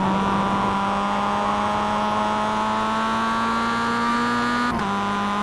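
A Mazda MX-5 race car in iRacing at Okayama International Circuit accelerates with a steady, loud engine drone whose pitch climbs smoothly, then dips briefly at a gear change near the end.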